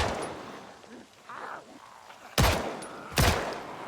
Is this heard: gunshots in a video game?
yes